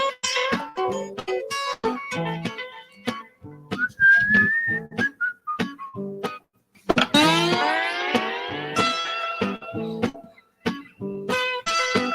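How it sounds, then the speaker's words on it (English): A person whistles a melodic tune, with bright sustained and sliding notes over a rhythmic electronic music backing, fairly loud and close. "Oz whistles."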